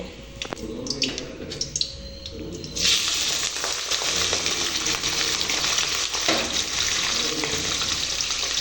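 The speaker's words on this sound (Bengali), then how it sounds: "এইবার এর মধ্যে আমি চিংড়ি মাছটা দিয়ে দেব, দিয়ে চিংড়ি মাছটা লাল লাল করে ভেজে নেব।" Prawns hit hot oil in a wok and sizzle loudly and steadily, the frying rising sharply partway through and holding as a dense, close hiss, with faint stirring or clinks earlier.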